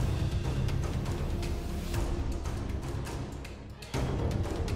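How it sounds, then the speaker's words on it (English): Kalenia strings sample playing as a dense, sustained orchestral string texture, fairly loud and continuous with a short dip near the end before swelling back, no voices. "of course, we have the Kalenia strings"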